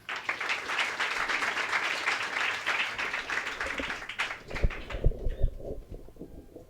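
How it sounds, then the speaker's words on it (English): Audience applause welcoming Margaret Ember onstage, a dense, steady wash of clapping from a crowd that thins into scattered, separate claps near the end. "please join me with a warm round of applause in welcoming Margaret Ember"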